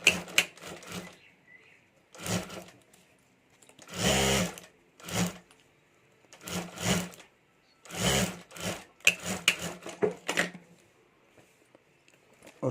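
Sewing machine stitching parts of a homemade sling bag together, including a leather panel, in short bursts of rapid mechanical chatter separated by quiet pauses, repeated about eight times, close and clear.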